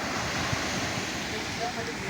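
Rough sea surf breaking at a beach, a steady broad wash of waves with wind buffeting the microphone, continuous and fairly loud throughout.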